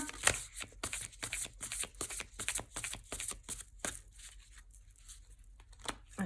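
Tarot cards being shuffled and drawn: a rapid series of crisp riffling and snapping card flicks, close and fairly quiet, with a slight papery rustle as a card is pulled near the end.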